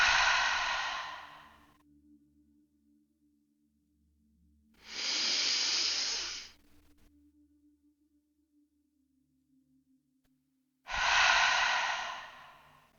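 Slow, deliberate guided breathing, three long airy exhales and inhales each lasting about two seconds, separated by quiet pauses with a faint low hum in the background.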